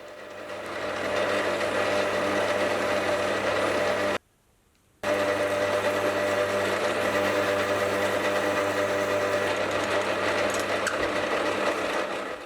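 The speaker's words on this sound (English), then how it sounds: "I'll start off with a piece of 1045 steel and I'll drill a hole all the way through it." Drill boring a hole through a piece of 1045 steel, a steady loud mechanical whine with harmonic hum running throughout, broken by one short silent pause partway through.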